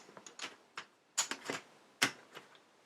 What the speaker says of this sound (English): The rest we shuffle together.